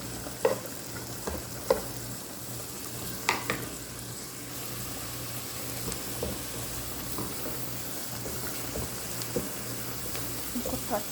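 Onions fry in butter in a pan, a steady soft sizzle under repeated scraping and clicking of a stirring utensil, close and moderately loud, with no talk.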